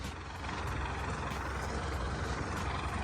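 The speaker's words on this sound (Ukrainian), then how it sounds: "Штангу Максик розправляє автоматично із кабіни трактора." A tractor running with its sprayer boom unfolding, a steady loud engine drone with a rhythmic mechanical pulsing, close and continuous throughout.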